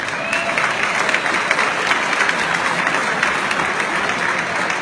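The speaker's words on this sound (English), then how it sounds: "I just want to give him a round of applause" Audience applauding a colleague at the Bethpage Air Show reception dinner, a steady dense wash of many hands clapping at once, loud and sustained without a break.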